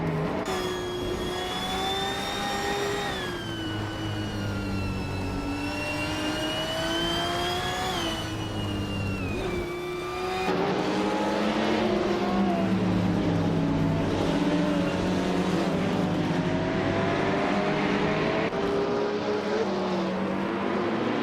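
Racing cars, BMWs and Porsches, circle a track in a continuous engine drone with rising and falling pitch as they accelerate and shift, growing louder and denser about halfway through as more cars pass close by.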